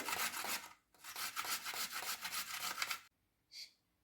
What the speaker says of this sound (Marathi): शक्यतो जाड किसणीनेच हळद आणि आलं किसायचं